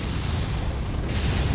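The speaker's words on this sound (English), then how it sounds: "it sounds like I'm getting beat the hell out of, but it's just like a couple of missiles" Missile explosions in a video game, a steady dense rumble of booming blasts with heavy low end, loud and continuous without pauses.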